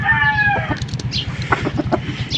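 Rooster clucking close by, loud and continuous with rapid, repeated cackling notes filling the short stretch.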